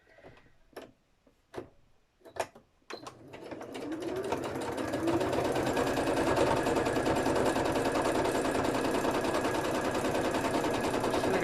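A sewing machine with a thick jeans needle stitches lace onto a bird wall hanging, starting with a few short separate bursts, then settling into a steady, close, continuous rapid whirring clatter with no voices.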